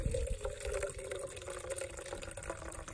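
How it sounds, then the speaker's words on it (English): Hot pine needle tea being poured and strained through a small strainer, a continuous close trickle and splash of liquid running steadily for a few seconds. "So now I'm going to pour it and strain it."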